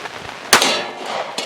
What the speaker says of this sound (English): I've got the 9mm loaded up here. We're gonna see if that meat scale will stop a bullet.